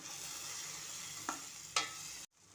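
Dill leaves and mung beans frying in a pan after a sprinkle of water, a steady soft sizzle with two brief louder hisses before it abruptly cuts out.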